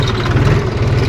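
A tractor engine runs in a farm field with a low, steady chugging idle. It sounds close and loud throughout the short stretch.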